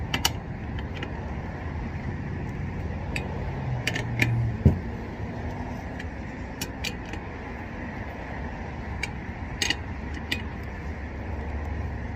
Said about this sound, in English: take your lug wrench and start tightening them